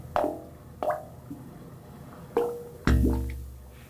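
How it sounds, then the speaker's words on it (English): Tide water surging through the pipes of a wave organ, making a few separate hollow gurgling plops and watery thunks at uneven intervals, close and clear over a quiet background. "the water moving in and out of those pipes creates a musical sound"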